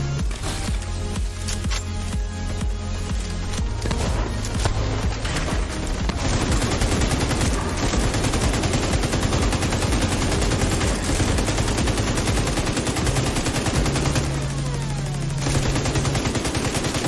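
Dense, loud automatic gunfire rattles almost nonstop in The Division 2 video game as enemies shoot at a deployed turret, with bursts overlapping and no pauses.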